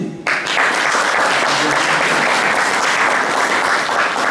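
Audience applause at a Haitian community gathering in France, a loud sustained round of clapping that starts abruptly and holds evenly for the rest of the stretch.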